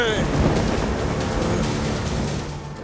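A deep, rolling rumble of thunder over a steady wash of heavy rain, filling the scene continuously and loudly.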